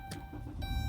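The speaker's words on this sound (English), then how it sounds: "car turns on right away" A Chrysler Town & Country minivan with a stalling problem starts with a key turn: a short crank and a second burst, then the engine catches and its low idle rumble builds, close and fairly loud.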